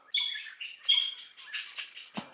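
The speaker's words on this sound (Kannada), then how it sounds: "ಸ್ವಲ್ಪ ಪಕ್ಷಿಗಳು ಎಷ್ಟು ಚೆನ್ನಾಗಿ ಕೂಗ್ತಿದಾವೆ." Birds chirp and call outdoors near an old Renukamba temple site: bright, whistled tweets come close and fairly loud at first, then a flurry of softer mixed calls continues, with no talking.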